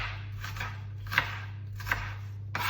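A knife slices through an onion on a cutting board in a few slow, separate cuts, each a soft crunching stroke ending in a light tap, close and fairly quiet over a low steady hum.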